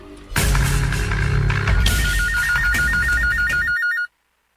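A telephone rings loudly and continuously with a warbling electronic trill, alone over a busy background, then cuts off abruptly.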